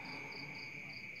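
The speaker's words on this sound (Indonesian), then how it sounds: "ada suara jangkrik dan macam-macam binatang malam" Crickets chirp steadily at night with other night creatures, a continuous high trilling with a pulsing upper layer, moderately close and unbroken throughout.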